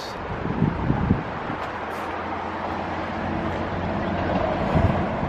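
Steady road traffic rumbles from a distance outdoors in Ohio, a continuous low wash of passing vehicles with gusts of wind on the microphone and a couple of brief louder swells.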